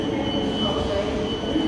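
A Thameslink train at London St Pancras low level station gives a steady rumbling roll with a thin high squeal running throughout, continuous and fairly close.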